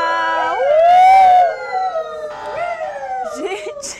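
Newsroom staff voicing a police siren, a loud wailing rise-and-fall imitation with overlapping voices, followed by softer wavering siren calls and laughter-like bursts.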